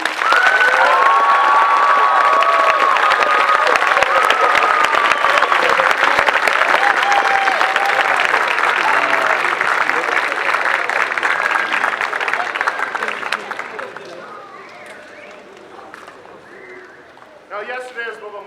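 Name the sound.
audience applause at school assembly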